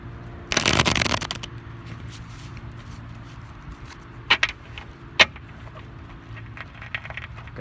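A quick riffle-shuffle of a tarot deck, one short burst of papery flutter, followed by a few faint taps and handling sounds in a quiet room.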